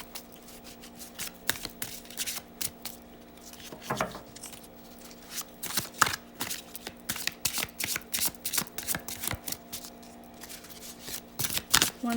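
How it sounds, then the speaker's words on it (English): Tarot cards are shuffled close up in a steady, crackling stream of riffles and soft slaps that rises and falls in small bursts for several seconds, with no talking. "I'll just pull the top card after a few more shuffles"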